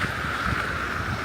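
Wind gusts through a New York City street during a steady snowstorm, a constant breathy roar buffeting the microphone with no pauses.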